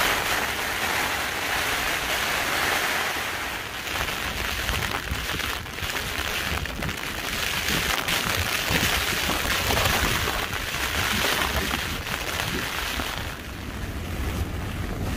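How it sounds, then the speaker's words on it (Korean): Heavy rain and gusting wind batter a campsite on a mountain, a loud, dense, continuous roar of downpour with surging buffets of wind and no talk. "엄청난 비가 있습니다."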